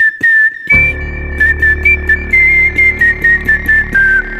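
A person whistles a clear, sustained melody that opens a rock cover of a song, the tune steady and prominent, with a deep droning instrumental bed coming in underneath after a brief first phrase.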